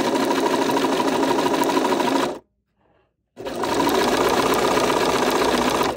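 A sewing machine with a patchwork foot stitches in a steady, fast mechanical whir, running for about two seconds, pausing briefly, then resuming at the same pace.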